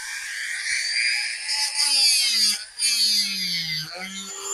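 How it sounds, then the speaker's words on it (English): Dremel rotary tool fitted with a grinding stone, sanding excess plastic off a Redcat Lowrider mini truck RC part: a high, whining motor tone that sags and rises as the stone bites and lets off, briefly cutting out once. "It's actually a stone on the Dremel. And just sanded away the excess material"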